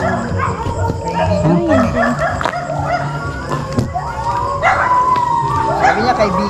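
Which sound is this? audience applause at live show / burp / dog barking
dog barking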